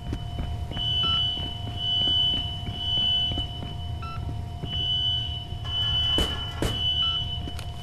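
A fire alarm rings in the video game INFRA, sounding in repeated beeping bursts over a low rumbling background with scattered footsteps and clatter.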